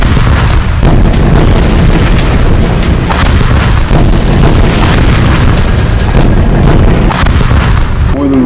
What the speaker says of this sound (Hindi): आसमान में लगातार मिसाइल की आवाज, बम की आवाज, धमाके की आवाज आ रहा है।